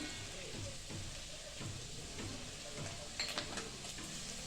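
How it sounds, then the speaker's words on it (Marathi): Ginger garlic paste sautéing in a pan with browned onion, a steady soft sizzle with occasional stirring scrapes of a spoon, quiet and close, with a brief metallic clink near the end. "हे आता चांगलं आपण परतून घेतोय"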